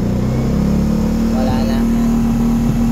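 A motorcycle engine, just retuned after popping from a lean mixture, runs loud and steady with a brief rise in revs partway through while someone speaks briefly over it.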